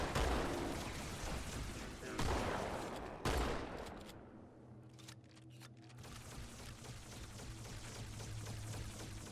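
Rapid gunfire from Halo 2 gameplay comes in dense bursts, loud at first and then fading to scattered shots over a low hum.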